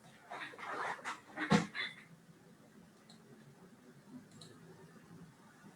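A small dog barks in a short cluster of sharp yaps near the start, then the room falls mostly quiet with only faint stray noises.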